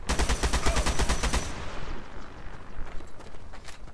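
Rapid bursts of automatic gunfire in the video game Ravaged crackle for about a second and a half, then fade into a rumbling, noisy game soundscape.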